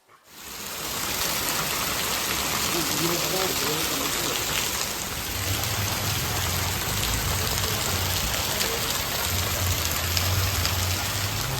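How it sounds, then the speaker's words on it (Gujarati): Heavy rain pours down in a dense, constant roar that fills the whole clip at close range. "આજે વરસાદ પણ ખૂબ વરસી રહ્યો છે"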